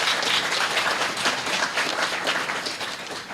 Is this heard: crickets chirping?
no